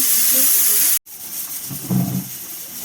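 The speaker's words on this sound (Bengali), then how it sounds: "প্রেসারে 2টো সিটি দেবেন মোটে" A pressure cooker vents hard while meat cooks on a home stove, its hiss of steam loud and continuous, then briefly cut off before resuming as a weaker, rougher hiss.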